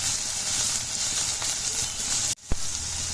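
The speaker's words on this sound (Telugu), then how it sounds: "ఇప్పుడు ఇదంతా ఫ్రై అయ్యే విధంగా కలుపుకోవాలి" Vegetables and green peas stir-fry on high flame for street-style veg fried rice, a loud steady sizzle with stirring scrapes, briefly cut off near the end before the frying noise returns.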